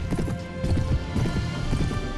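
Cavalry horses gallop in a medieval battle video game, a loud steady drumming of many hooves close by with a faint whinny in the mix.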